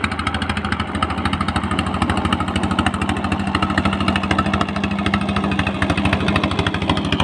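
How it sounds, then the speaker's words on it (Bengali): A trawler boat's engine chugs in a fast, steady pulsing rhythm on the Jamuna River, loud and fairly near, with no talk over it. "অনেক জোরে ট্রলার যাচ্ছে"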